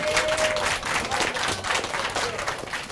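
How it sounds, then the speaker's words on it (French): Steady, full applause from a studio audience on a French musical show, heard close and continuous for a few seconds with a brief tone near the start. "Bonne main d'applaudissements pour vous"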